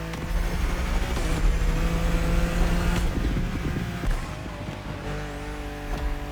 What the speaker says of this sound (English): This sounds really good. Oh, I like this NSX though.